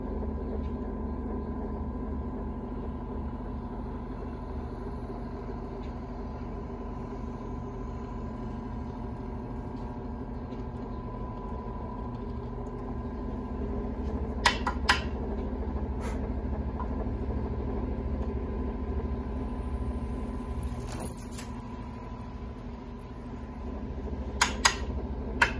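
A powered drill boring a hole through a tool handle runs as a steady motor hum with a whining tone throughout, joined by a few sharp clicks and taps near the end.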